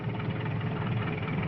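A tractor on a cattle ranch hums with a steady, dense engine rumble, constant and fairly loud over a short stretch with no pauses.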